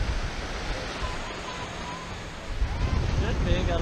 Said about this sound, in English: The waves are coming up right now.